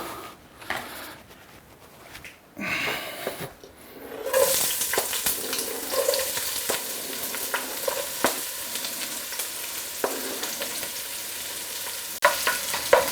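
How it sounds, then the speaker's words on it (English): Onions frying in hot oil in a pot, a quiet start followed by a steady, close sizzle with scattered crackles and pops, alone without talk. "So I'm going to start by adding the onion in the pot."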